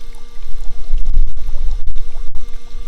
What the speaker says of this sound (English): It's splashing.